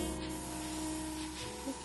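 An airbrush spraying paint onto canvas from close range, a steady even hiss that runs unbroken at moderate volume with no voices.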